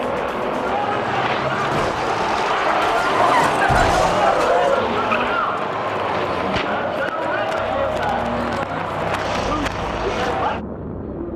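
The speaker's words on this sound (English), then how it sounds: "His crash sets off a chain reaction, and several of the other big rigs get caught up in the wreck." Big rig racing trucks skid and crash into one another in a chain-reaction wreck on a race track, with roaring engines and scraping skids throughout, under a steady narrating voice.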